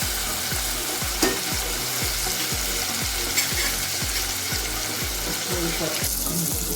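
Chopped tomatoes and ground masala paste for a black pea usal fry loudly in a pan, a dense steady sizzle under repeated rhythmic scraping strokes of a spoon against the pan, close and continuous.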